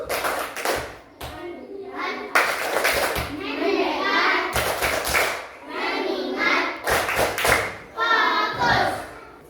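Children in a classroom lesson clap their hands in short rhythmic bursts, sharp groups of claps alternating with their chanting voices, close and lively throughout.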